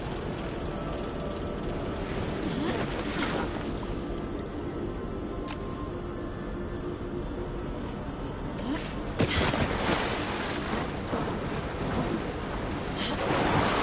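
Water in the Alan Wake 2 video game makes a continuous rushing, surf-like wash with louder swells and gusty bursts throughout.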